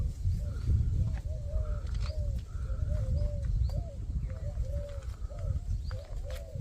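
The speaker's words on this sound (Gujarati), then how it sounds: "પક્ષીઓની મસ્ત મૂંદ મૂંદ અવાજ આવી રહી છે" Birds call and coo repeatedly over steady low rumbling outdoors on a village farm field, with short chirps and pigeon-like coos recurring every second or so at moderate distance.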